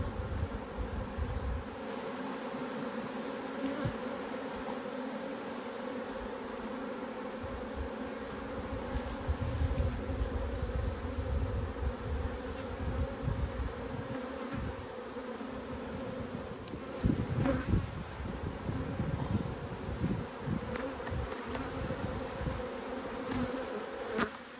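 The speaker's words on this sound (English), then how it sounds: "Plenty of bees." Many honeybees buzzing around an open hive during winter preparation, a continuous layered drone that swells and rises in intensity as the bees move nearby, close and steady, no speech.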